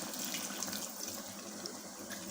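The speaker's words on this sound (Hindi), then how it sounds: "हम इसमें थोड़ा सा पानी डालेंगे" Water pouring steadily into a pot of chicken and peas curry, a continuous close splashing stream with no talk.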